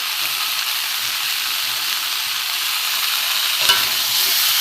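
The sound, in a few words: stirring frying vegetables with drumsticks in a pan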